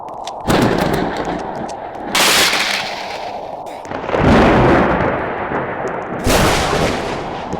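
Lightning strikes crash during a storm in Roblox Natural Disaster Survival, four loud booming bursts arriving every couple of seconds over a continuous rumbling storm bed, close and forceful.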